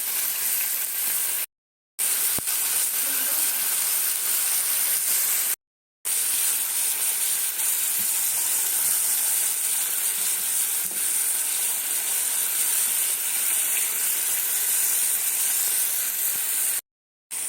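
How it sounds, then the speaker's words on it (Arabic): Chicken pieces for shawarma sizzle steadily in a frying pan, a dense continuous hiss with brief gaps of near silence, with no talking. "وجبنا الطاسة بتاعتنا ونزلنا بالفراخ زي ما انتم شايفين"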